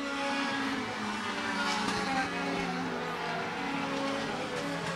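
Race cars slide sideways into turn 1 during a race, a loud continuous engine roar with a faint edge of tire noise, steady and close throughout with no voices.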